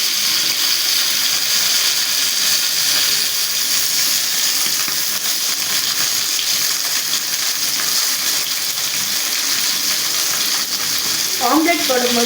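Fish frying in a pan for a home Sunday lunch gives a loud, steady, close sizzle that never lets up, with a few faint clinks near the end.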